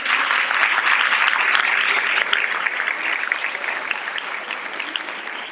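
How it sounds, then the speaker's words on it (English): Steady, full audience applause at a Shakespeare competition final, dense clapping sustained throughout and easing off slightly toward the end, with no talking over it. "Please, a round of applause"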